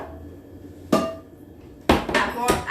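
A knife slicing through leek on a cutting board: one sharp knock, then a quick cluster of two or three chopping taps against the board, close and fairly loud.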